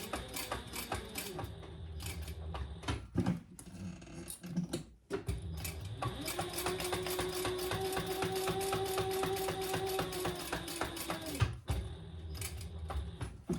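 A home sewing machine stitches a seam on a fabric bowl koozie, its motor running in a steady close whir for several seconds, with brief pauses and restarts at either end.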